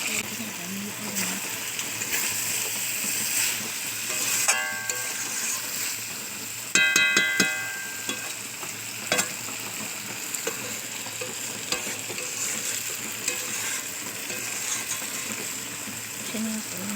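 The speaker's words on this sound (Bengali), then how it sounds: "মিট মশলাটা ভালো করে কষে নিতে হবে" Mutton sautéed with meat masala in a pan, stirred steadily: continuous oily sizzling with scraping, clattering spoon strokes against the metal, a burst of sharp scrapes midway, and no speech.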